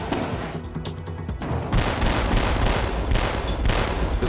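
A warship's gun fires bursts at a slowly moving target, with rapid, sharp, loud reports in quick succession and a heavier, denser volley of shots in the second half.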